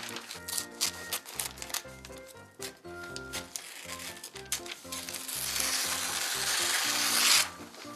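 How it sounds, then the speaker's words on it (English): Scissors glide through a sheet of wrapping paper in a long, smooth, rising hiss, heard close over steady background music with a thumping beat. "Hey, these scissors do slide."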